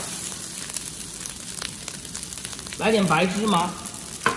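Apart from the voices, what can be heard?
stir-frying seaweed fried rice over high heat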